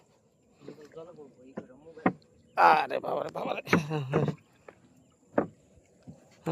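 Wooden creaks and splashy knocks from a rowboat moving through water, with a man exclaiming loudly over the paddling.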